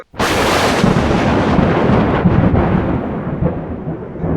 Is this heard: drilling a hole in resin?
no